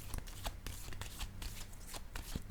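Cards are handled and set down on a table in a tarot reading, giving soft, close papery slides and light taps over a faint background hiss.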